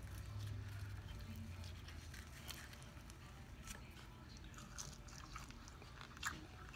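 Crunchy fried fish skin being bitten and chewed close to the mic, soft repeated crackles and squishy mastication over a steady low background hum, with no talking.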